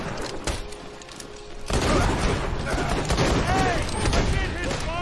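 Pistol shots ring out in Borderlands 2, a rapid burst of loud cracks amid game effects and clatter, with a voice talking over the action.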